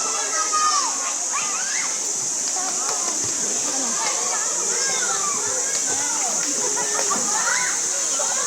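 Steady rushing and splashing river water fills the scene at a nature park in Tanay, Rizal, with children's voices and chatter scattered over it throughout.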